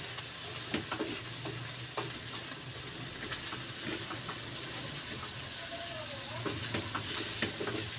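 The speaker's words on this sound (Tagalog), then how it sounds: "Siya natin haluin na naman ulit." Cabbage and carrots for pancit bihon sizzle steadily in a pan while a utensil scrapes and taps now and then, stirring the frying vegetables up close.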